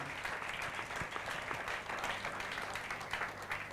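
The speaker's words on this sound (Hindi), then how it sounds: "कोई तो ताली बजा के प्रभु को महिमा दे।" Congregation clapping during a Sunday church service, a sustained dense patter of many hands at moderate distance, fairly quiet and continuous, with no talk over it.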